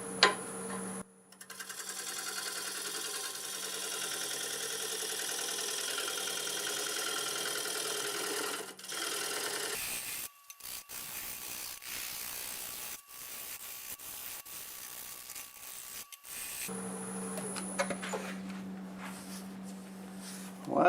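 A wood lathe spins a large natural-edge black locust bowl while a negative rake scraper works the surface, giving a steady whirring hum with a scraping rasp, a brief stop midway, then the motor running on.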